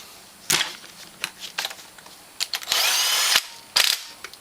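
Bolts being tightened with a power tool during assembly of a Honda Foreman Rubicon ATV engine, several short ratcheting bursts then one longer whirring run and a final burst, close and fairly loud with no talk.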